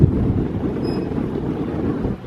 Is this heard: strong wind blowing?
yes